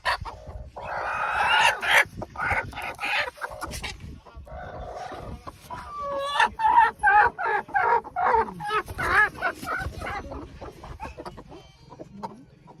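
Hens cluck and squawk in a busy series of calls close by, with rustling and shuffling movement around them.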